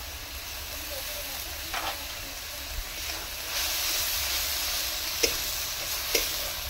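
Ginger, garlic and green chili paste sautés in a pan for jackfruit kalia, a steady close sizzle with occasional scraping stirs and soft clinks of a spatula, no talking.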